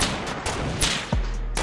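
Rapid gunfire crackles through a video game firefight, with several loud bursts and shots coming close together and then one sharp final shot.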